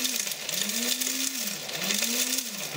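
A blender whirs loudly and steadily, its motor pitch dipping and rising in slow cycles as it grinds dry garam masala spices and husks, with no voices.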